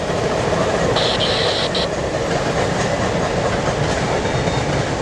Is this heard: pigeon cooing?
no